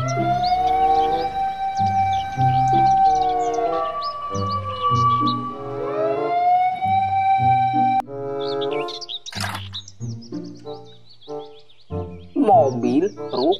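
An electronic toy fire truck siren wails up and down in rising and falling sweeps, followed by chirpy, beeping toy sound effects.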